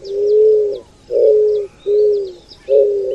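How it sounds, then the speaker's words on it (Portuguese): An eared dove (Zenaida auriculata) coos close and loud, four low steady hooting notes in an even rhythm with short gaps, faint chirps of other birds in the background. "O nome científico da pomba é Zenaida auriculata."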